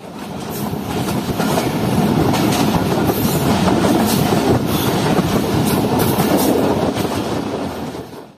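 A Jaffer Express passenger train rolls along the rails between Rohri and Sibi in winter, a loud, steady rumble with rhythmic clickety-clack of wheels over joints, swelling in and easing off across the stretch.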